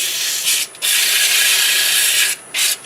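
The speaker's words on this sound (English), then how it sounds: "it's just going to be a matter of sanding like this all the way around it" Abrasive sanding of a wood-turned coffee scoop spinning on a lathe, a loud steady rasping hiss broken by two short pauses where the paper lifts off, close up with no talking.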